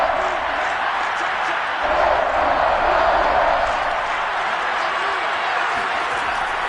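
Steady roar of a packed home stadium crowd in a Madden NFL football game, loud and continuous throughout with a brief swell in the middle.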